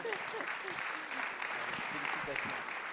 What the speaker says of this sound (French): On l'applaudit quand même bien fort.